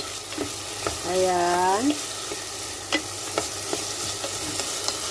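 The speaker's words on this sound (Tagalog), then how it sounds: "Halo-haloin lang din natin ng konti." Potatoes and minced meat stirred and frying in a pan with garlic powder, a steady sizzle with scraping stirs throughout, close up, and a brief voice-like tonal sweep near the start.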